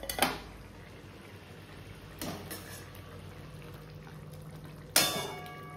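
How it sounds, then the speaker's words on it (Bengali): Fish curry gravy bubbles quietly in a pot on the stove, a soft steady simmer broken by three sharp clangs of utensils against the pot. "ঝোলটা ফুটে এসছে, তো মাছগুলো এক এক করে দিয়ে দেবো।"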